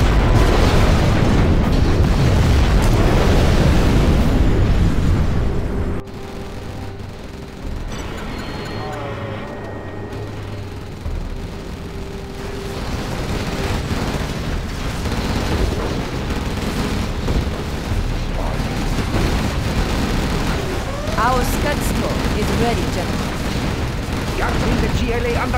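Scud Storm missiles strike in Command & Conquer Generals Zero Hour, giving dense, loud, rumbling explosions that fill the opening seconds and then keep up a continuous battle roar. Game voice lines sound over it.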